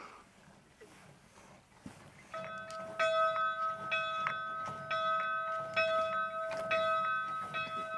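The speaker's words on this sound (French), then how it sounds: "Là, on va sonner la cloche, attends, regarde." A bell rings out clearly, struck repeatedly with bright sustained metallic tones and overtones, loud and close, following a quiet rustling start.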